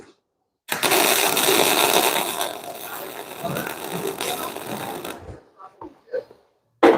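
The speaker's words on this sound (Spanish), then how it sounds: "A medida que lo vamos ajustando, vamos soldando." Welding 8mm steel plate onto an Eaton rear axle: a loud, steady crackling arc runs for about four and a half seconds, then stops, followed by brief clicks and light handling noise.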